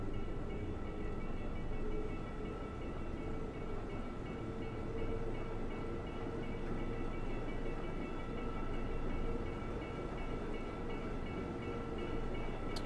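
Bernina Express train running on the Bernina Line in Train Simulator 2020, a steady, continuous rumble of rolling wheels and carriage noise with faint tonal hums, unbroken throughout and with no talk.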